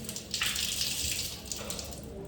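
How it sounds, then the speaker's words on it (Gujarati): Water runs steadily from a tap in a house, a continuous close rushing hiss with slight surges and no talking. "પાણી તો આવતું જ હોય"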